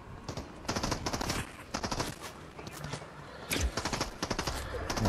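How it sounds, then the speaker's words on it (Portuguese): Bots fire at the player in the Fortnite video game, bursts of rapid automatic gunfire and scattered shots coming in several clusters at moderate volume, with no clear talk. "Os bots estão atirando em mim."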